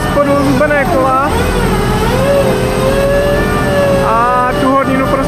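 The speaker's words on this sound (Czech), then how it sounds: "pak se nasadila ta hydrofréza" A hydromill trench cutter grinds through rock while digging a diaphragm wall for a construction pit. It makes a loud, continuous heavy-machinery drone with shifting engine tones, and a voice talks over it.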